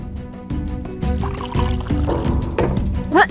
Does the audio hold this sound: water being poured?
yes